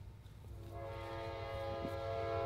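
A passing train sounds its horn, a sustained loud harmonic blare that swells in and holds steady over a low rumble, heard indoors at a jiu-jitsu gym with no talking.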